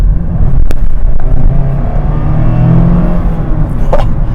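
A 2024 Mazda MX-5 Miata RF GT accelerating on the road, its engine a loud, steady drone heard from inside the car with a brief rising rev near the end.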